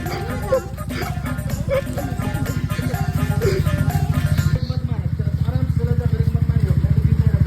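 Motorcycle ridden on ice, its engine putting out a rhythmic low chugging pulse that grows steadier and more even toward the end, with voices and other noises over it in the first half.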